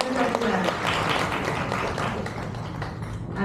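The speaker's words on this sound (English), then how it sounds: "A huge round of applause, ladies and gentlemen." An audience applauding for a keynote speaker at an address event, a steady patter of many hands clapping at moderate volume.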